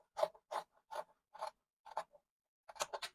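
Scissors snip through fabric as pattern pieces for a pleated office dress are cut, giving about seven separate close, soft cuts with short pauses and a quick burst of snips at the end.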